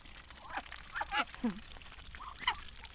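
Several ducks quack and honk in short bursts, close by, mixed with squawky bird calls over a faint background hum.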